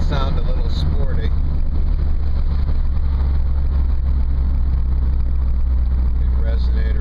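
A Toyota car fitted with a Toyota Racing Development exhaust drives along with a steady, low engine drone heard from inside the cabin, with a few faint voices over it.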